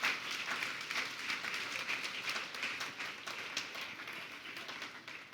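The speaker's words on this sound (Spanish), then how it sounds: "¿Cuántos dan ese aplauso a su Señor?" Applause from a church congregation during a Sunday worship service, a steady wash of many hands clapping at moderate level throughout, with no voices standing out.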